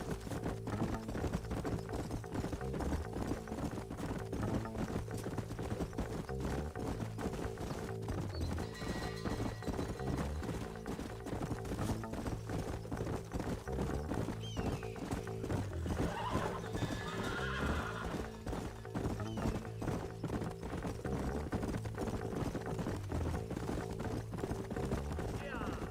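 Horses in the Red Dead Redemption video game, with dense clip-clop of galloping hooves throughout and occasional neighs, set against a busy game soundscape with voices talking.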